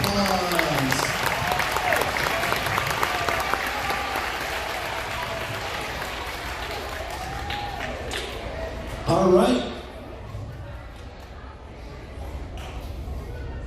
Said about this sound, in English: let's go ahead and give our first graders a round of applause.